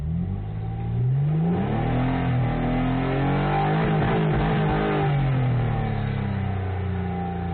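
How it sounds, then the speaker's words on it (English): A 2000 Nissan Maxima GLE engine is revved from a low idle. One loud, close rev climbs, holds and falls back smoothly, with no talking. "go ahead and rev it up for you so you can get an idea of what it sounds like"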